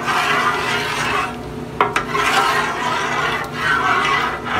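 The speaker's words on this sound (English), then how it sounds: "Keep this stirring until this gets to boiling real good." A spoon stirs a pot of shrimp and crab stew heating toward a boil, giving a steady, close rubbing scrape with a couple of sharp knocks against the pot.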